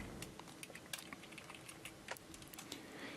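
Rapid, uneven clicking of keys on a computer keyboard while a camera tracker is set up in After Effects, close and fairly quiet with steady background hiss.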